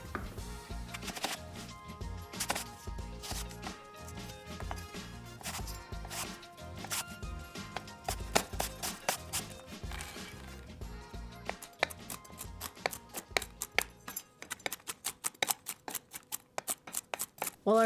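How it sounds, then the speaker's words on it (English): A Granny Smith apple and pecans chopped on a cutting board, with rapid knife taps in irregular bursts that quicken into a dense, sharp, close-up rhythm toward the end. "we're gonna chop our other ingredients. Granny Smith apple and pecans."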